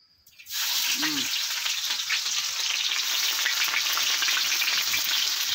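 Onion hits hot oil in a pan and bursts into a loud sizzle, which stays steady and close. A brief voice sounds just after it starts.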